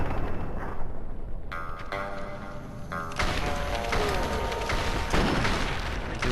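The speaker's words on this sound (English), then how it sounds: "I hate grenade." Grenade explosions in the game Fallout 3: heavy, rumbling booms that roll and overlap across the stretch, with bursts of blast noise and no clear voices over them.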